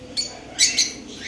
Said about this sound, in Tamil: African love birds